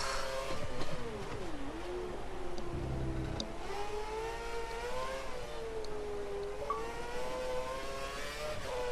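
Formula 1 race cars in an Xbox racing game at the Brazil circuit whine steadily as the engines rise and fall in pitch through the gears, loud and continuous with no talk.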